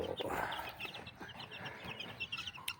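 Chicks cheep in quick, high repeated peeps while being moved into a new cage, a busy cluster of small calls nearby over low handling noise.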